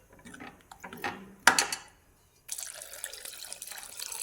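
Lukewarm water is poured into a masala potato mixture in a pan, a short splashing pour followed after a pause by a steadier, softer trickle.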